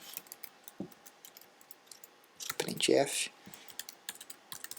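Someone typing C code on a computer keyboard, scattered close key clicks followed by a quick dense burst of keystrokes, with faint talk partly underneath.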